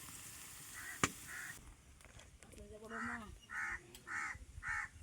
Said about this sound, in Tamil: காக்கா வந்து கொல்லையில் வந்து சத்தம் போட்டுக்கிட்டு இருக்குது